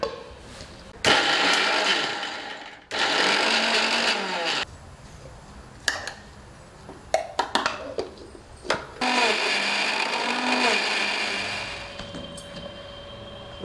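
A mixer grinder runs in loud bursts with short stops between them, grinding coconut, ginger, garlic, spices, onion and tomato into a masala paste. The motor whirs close by, and a few clattering knocks come during the pauses.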